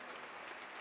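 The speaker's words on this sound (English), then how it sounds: "let's give another round of applause for our hosts, the Metropolitan Museum of Art" An audience at a Veterans Day breakfast claps in a brief, dense burst of applause, faint and distant-sounding throughout.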